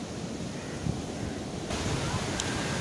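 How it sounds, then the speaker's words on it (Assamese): Sea waves wash onto Kovalam beach in Kerala, a steady broadband roar of surf with gusting wind noise across the microphone, fairly loud and continuous, no talking. "ইফালে চাওক সাগৰ"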